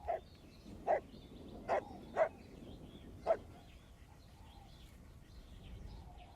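Dogs in The Last of Us Part II bark in a few sharp, separate yelps at moderate distance, five quick barks spaced over the first few seconds, followed by quieter ambient sound and faint bird-like chirps.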